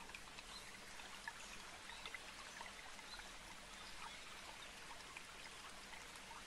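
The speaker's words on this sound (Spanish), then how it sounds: "De la melodía generada por una cascada cercana." A nearby waterfall rushes in a steady, soft wash of falling water, continuous and even, with no voices.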